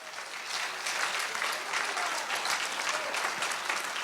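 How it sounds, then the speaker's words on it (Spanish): A church congregation gives a sustained round of applause for the Lord, dense clapping from many hands that builds quickly and holds steady, heard from within the room without speech. "Denle una ofrenda de palmas al Señor si gusta, hermanos"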